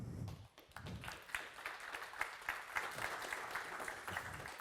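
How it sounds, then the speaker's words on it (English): Fairly quiet, scattered audience clapping at a conference on staking adoption, a loose patter of individual claps from a modest crowd heard at some distance in a reverberant hall. "So please give a round of applause to staking guru, CEO of Staking Awards, Mirko Schmiedl."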